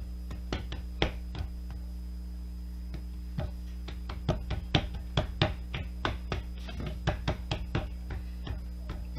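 Hands pat homemade doughnut dough flat on a counter, producing a quiet, irregular series of soft slaps and taps, sometimes in quick clusters, over a steady low background hum.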